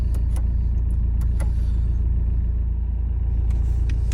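A car is heard from inside while driving home after a winter pike lure-fishing trip: a constant low road and engine drone with a few faint clicks and rattles.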